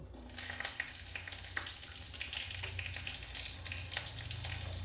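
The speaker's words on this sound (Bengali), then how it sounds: "এবার আমি ফোড়নটা দিয়ে দেব।" Whole spices tempering in a spoonful of hot mustard oil in a kadai for a Bengali spinach and moong dal dish, a dense continuous crackling sizzle that stays steady and close throughout, with no voices.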